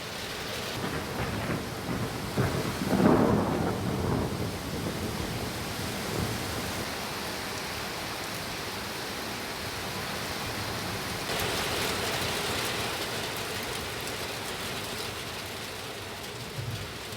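Unseasonal rain with thunder in Mumbai: steady, dense rainfall with a deep thunder rumble swelling early on, then continuous downpour hiss with no voices.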